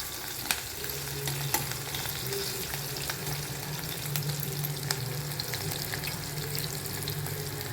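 Green chillies frying in tempering oil with a pinch of salt keep up a steady, close sizzle, with occasional sharp pops and spatters and no talking.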